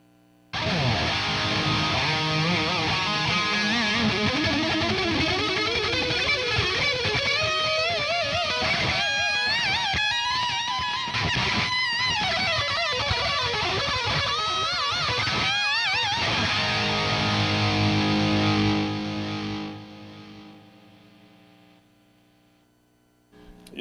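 An electric guitar plays through an amp with delay and reverb on the leads: a long distorted lead line with rising bends and echoing repeats that decay into a fading tail.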